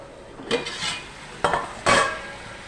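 Chicken frying in a pan, with a few distinct scraping stirs of a utensil against the pan over a soft continuous sizzle, close and fairly quiet, no talk.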